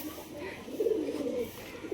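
Pigeons that have just been bathed coo softly while sunning, a low warbling call rising and falling at close range over faint background noise.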